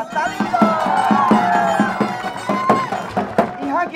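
A college entertainment show audience claps and cheers in a loud, continuous burst, crowd voices layered over the applause with some shouts.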